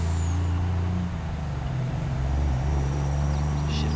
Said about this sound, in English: I do like the sound of this truck.